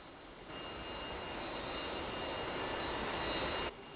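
A JAS 39C Gripen jet engine in the DCS flight game throttles up, jumping from a quiet idle hum to a loud steady roar with a high whine, then dropping back abruptly near the end.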